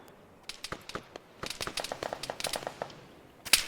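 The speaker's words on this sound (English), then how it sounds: "And there's the 50 cal going." Bursts of heavy .50 cal machine gun fire in an Arma 3 combat mission, coming as scattered short volleys of sharp cracks that turn denser toward the end, moderately distant.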